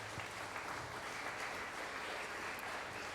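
Congregation at a Sunday morning Mass applauds the pupils, steady clapping filling the church for the whole stretch, moderately close and fairly quiet, with no speech over it.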